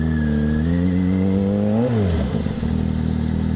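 A Yamaha FZ6R motorcycle engine runs close by, a steady mechanical drone that briefly rises and falls in pitch around the midpoint before settling back to an even idle-like hum.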